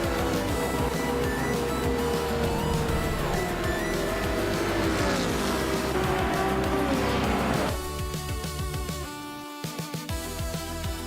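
Race cars roaring around Grand Valley Speedway in a racing video game, a dense, steady engine drone with shifting pitch and tire noise under game music, dropping to a lighter, thinner mix near the end.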